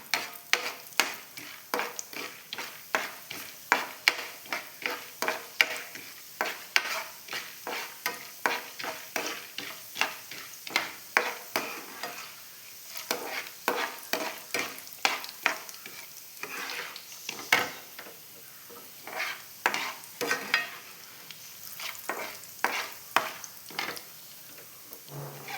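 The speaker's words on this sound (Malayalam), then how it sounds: "അപ്പോൾ അതൊന്ന് വറുത്ത് പോരട്ടെ." Roasted split chickpeas (pottukadala) frying in oil for a homemade mixture snack, with steady sizzling and repeated scraping strokes of a stirring spoon against the pan, close and alone.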